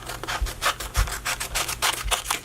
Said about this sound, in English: I really don't need this wide of tape either, so I'm going to trim some of this off